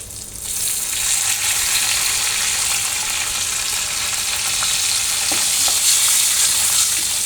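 Cardamom, cinnamon, cloves and bay leaf fry in hot oil left from frying prawns, making a continuous, fairly loud bubbling sizzle that holds steady throughout, with occasional faint ticks and no voices.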